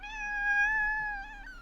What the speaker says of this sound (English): Oh, the meow.